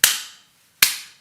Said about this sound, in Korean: 얼마나 화가 나는지 박수를 치면서